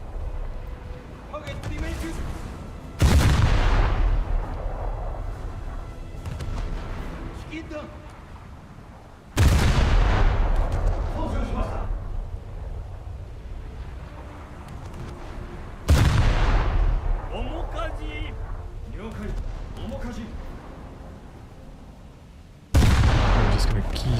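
Naval warship guns firing in a video game, four heavy booming salvos spaced several seconds apart, each with a long rumbling decay, loud and close, while someone talks over them.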